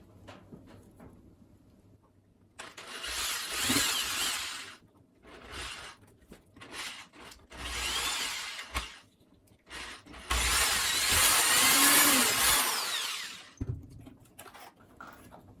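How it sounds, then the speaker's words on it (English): A power drill pre-drilling a hole in a wooden board for a spice rack, sounding in several close bursts of whirring with short pauses between, the longest run near the end. "go ahead and pre-drill one of the holes"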